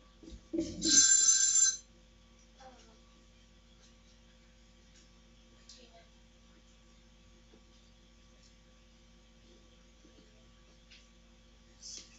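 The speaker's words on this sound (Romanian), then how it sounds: "stați o leacă că îmi sună telefonul" A single short burst of electronic telephone ringing, close and fairly loud, then quiet room tone with a few faint clicks.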